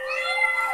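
A cat gives a single drawn-out, fairly loud meow during feeding time, the tone sustained and even with no other sound around it.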